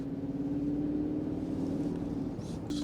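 An Audi R8 V8 engine hums steadily at a low pitch while driving, a continuous drone with a brief lift in tone near the end.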